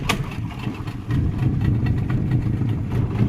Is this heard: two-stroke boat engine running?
yes